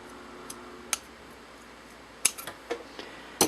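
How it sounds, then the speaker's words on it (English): Scissors snip a new oil lamp wick straight and level, a few sharp quiet clicks spaced apart in a near-silent room, with a small cluster of cuts toward the end. "You want to make sure when you put a new wick in to always cut it straight and level"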